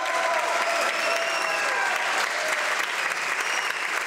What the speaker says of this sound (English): crossing the floor to thunderous applause